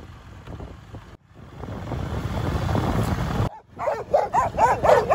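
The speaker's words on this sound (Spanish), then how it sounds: "Y lo notás en su forma de ladrar, que no se trata de un intento de agredir, sino de saludar y agasajar al visitante." Local village dogs in a rural railway and farming town bark in friendly greeting, a few close yips and barks over steady wind noise, growing louder and livelier toward the end.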